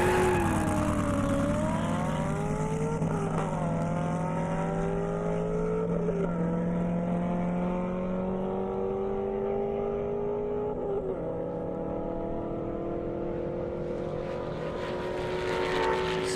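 A Corvette Z06 drag racing down a half-mile airport airstrip, its engine roaring and rising steadily in pitch through the gears over a long continuous run, mixed with another race car's engine, heard loud and sustained.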